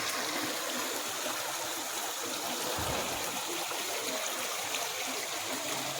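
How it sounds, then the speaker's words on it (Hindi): Spring water from a natural source inside Binsar Mahadev temple in Uttarakhand flows continuously, a steady close rushing and trickling stream heard alone without talk. "ये यहाँ पर भी एक जल का स्रोत है जो आ रहा है कहीं से और ये बह रहा है लगातार"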